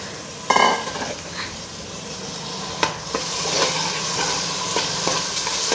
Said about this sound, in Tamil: இதோட நல்லா புரட்டி விட்டுட்டு இதுவும் ஒரு 2 நிமிஷம் ஆயிலில் வதங்கட்டும்